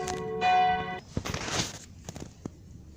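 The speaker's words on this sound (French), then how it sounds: "il y a la cloche qui me casse les oreilles" A church bell near an apiary in Crosne rings a single clear, loud toll that lasts about half a second. Close rustling and scattered handling noises follow.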